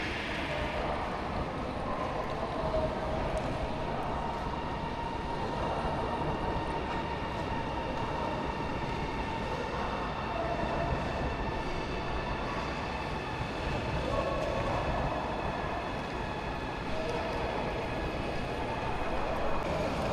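Station ambience inside Harbin railway station, a steady broad hum of trains and hall noise with distant indistinct voices mixed in throughout.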